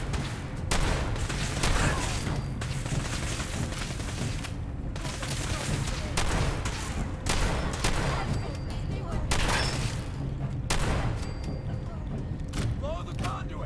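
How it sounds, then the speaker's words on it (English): Shotgun blasts fire repeatedly in Fallout 4, loud bursts arriving every second or two amid battle noise and a voice talking over the fight. "sniping dudes with a freaking shotgun."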